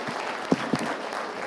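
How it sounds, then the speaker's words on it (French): At a public market event, an audience applauds in a short, steady spatter of clapping with a couple of sharper claps standing out near the start. "Bonne main d'applaudissements."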